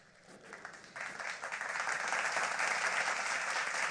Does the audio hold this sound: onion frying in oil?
no